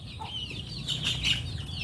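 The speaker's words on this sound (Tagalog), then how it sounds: "ito na rin yung mga alaga nating manok" Chickens cluck softly nearby for a moment, with faint bird chatter in a quiet farmyard setting.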